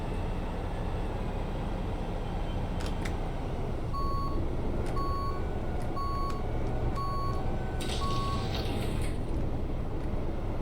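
A truck in Big Ambitions backs up with its reverse alarm, five evenly spaced beeps sounding over a steady engine and road drone, moderately loud with no voices.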